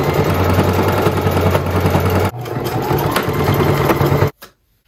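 A sewing machine stitches a seam on thrifted clothing with a fast, steady mechanical whir heard up close, pausing briefly midway, then running again before stopping abruptly.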